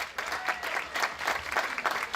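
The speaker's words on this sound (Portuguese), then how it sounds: "Uma salva de palmas mais uma vez" Applause from an evening village gathering in Rabo de Peixe, steady, moderately loud clapping from a crowd that carries on for the whole stretch, with scattered voices faintly underneath.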